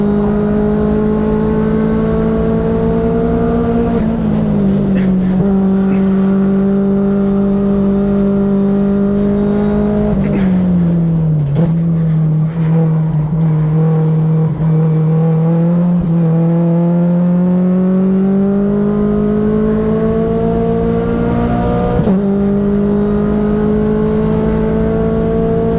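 A Mazda Global MX5 Cup race car engine drones loudly from inside the cabin, climbing steadily in pitch through each gear, with brief dips at upshifts around five, eleven and twenty-two seconds.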